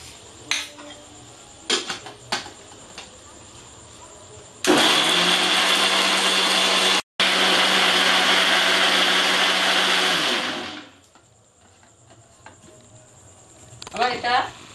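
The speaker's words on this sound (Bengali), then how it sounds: "প্রথমে আমি আমগুলো মিক্সিং বলে দিয়ে একটু ঘুরিয়ে নেব।" An electric mixer grinder blends mango pieces for juice, whirring loudly and steadily for about six seconds with a brief stop partway, then winding down; softer clinks and handling noises come before and after.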